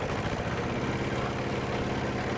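A home-built Lawrie Special vehicle runs its engine on rollers, a steady, loud, rumbling drone with a constant low throb throughout and no voices.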